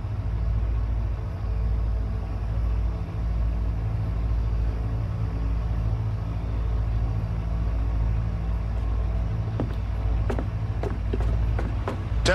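A car's engine idles and rumbles steadily nearby as the vehicle pulls up, a low continuous drone with a few sharp clicks and knocks near the end.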